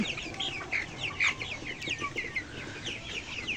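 Tiger chickens cluck and chirp on a farm with sand litter, several birds calling in quick overlapping bursts at moderate distance, with no voices.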